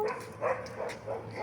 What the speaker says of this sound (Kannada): ನಾಯಿ ಬೊಗಳ್ತಾ ಉಂಟು ಸೈಡಿಗೆ.